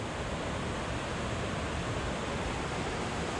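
Steady broadband rush of a waterfall at Lake Oroville, continuous and fairly loud with no breaks, heard alone.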